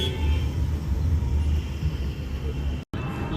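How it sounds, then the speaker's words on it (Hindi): Street traffic in Delhi on a hot day makes a steady, fairly loud low rumble of engines and road noise, continuous throughout with a brief dropout near the end. "दिल्ली में सबसे बड़ी चीज़ है ट्रैफिक। यहाँ इतना ट्रैफिक है।"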